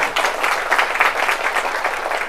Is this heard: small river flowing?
no